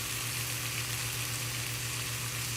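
Ground beef with fry seasoning sizzles in a pan, a dense, steady frying hiss over a low constant hum.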